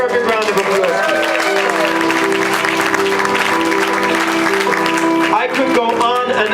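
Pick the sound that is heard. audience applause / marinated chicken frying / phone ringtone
audience applause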